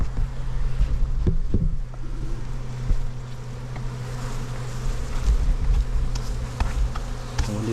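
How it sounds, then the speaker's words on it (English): Honey bees swarm in a steady, dense buzz around an outdoor hive, near and continuous for the whole stretch, with wind rumbling across the microphone and a few brief knocks. "There's a whole bunch of bees here."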